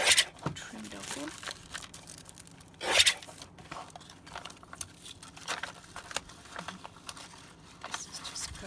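A package is trimmed and torn open at a desk during cleanup, giving bursts of crinkly plastic tearing and crumpling, with a sharp rip near the middle, while a person talks intermittently nearby.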